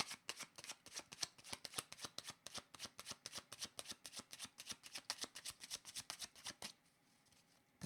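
Deck of playing cards being shuffled indoors: a rapid, even run of crisp riffling flutters and slaps, fairly close but quiet, lasting several seconds before stopping abruptly into near silence.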